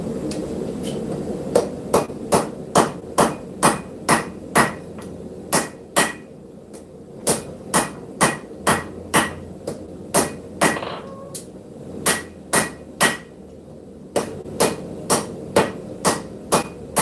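A hammer beats scrap steel on an anvil while forging a knife, with loud ringing blows in a steady rhythm, roughly two per second, broken by short pauses.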